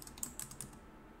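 Quiet typing on a computer keyboard: a short run of soft, quick keystrokes with no talking.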